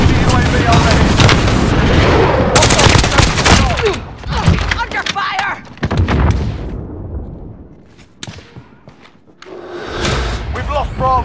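Gunfire in Call of Duty: Modern Warfare Ground War on PC: loud, dense bursts of rifle and machine-gun fire with heavy booms and thuds, easing off briefly before erupting again, with shouted in-game voices.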